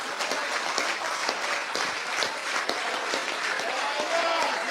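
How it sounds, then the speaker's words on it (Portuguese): A church congregation claps for the Lord after a sermon by a woman preacher, steady dense applause filling the room throughout, fairly loud and even with a few sharper individual claps standing out. "Você consegue aplaudir ao Senhor pela sua palavra agora?"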